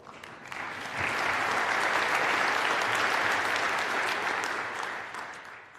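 At the COP26 climate summit, a hall audience bursts into a sustained round of applause that swells after a second, holds dense and steady, then slowly tapers.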